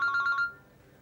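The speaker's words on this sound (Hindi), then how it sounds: "फोन आ रहा है उनका।" A telephone ringtone chimes in four quick, bright pulses, fairly close and clear, then cuts off and leaves a quiet room.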